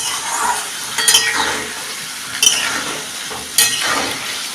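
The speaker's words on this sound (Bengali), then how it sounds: "দিয়ে দিচ্ছি নুন আলুটা আমি লাল লাল করে ভেজে নেব" Potatoes frying in a pan of oil for a Bengali rohu fish head curry, a steady close sizzle with occasional stirring scrapes of the spatula, no voices.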